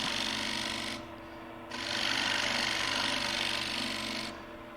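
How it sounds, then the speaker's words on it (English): A 3/8 spindle gouge cleaning up the base of a wooden bowl on a lathe, a continuous hissing cut over the lathe's hum, briefly easing off twice as the tool lifts away. "I'm taking my 3/8 spindle gouge and I'm going to clean up the base."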